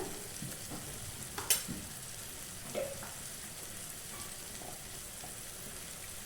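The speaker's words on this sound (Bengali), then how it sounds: "প্রথমে দিয়ে দিচ্ছি আমি রসুন বাটাটা" Garlic paste hitting hot oil in a pan gives a steady soft sizzle, with a brief louder spit and a stir partway through, and no talking.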